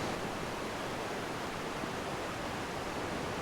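Ocean waves at Jan's Causeway break against white rocks in a steady, dense roar of surf, loud and continuous with no distinct pauses, heard alone.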